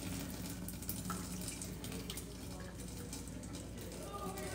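Water is poured off from a cooking pot without a strainer, a faint continuous splashing stream that lasts a few seconds with background voices.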